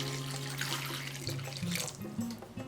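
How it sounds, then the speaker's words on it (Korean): Tap water pours into a bowl for a Korean pork dipping sauce, a close, steady splashing that shifts in pitch as the bowl fills. "볼에 담아서 물을 붓고"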